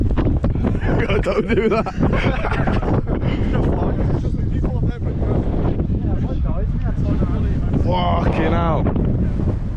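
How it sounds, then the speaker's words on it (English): Strong wind buffets the microphone outdoors near water, loud rumbling gusts throughout with people talking and shouting over it. "It is windy here."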